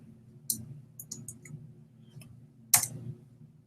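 Typing a search query on a computer keyboard: a handful of light, scattered key clicks in short bursts, close and fairly quiet, with no talk.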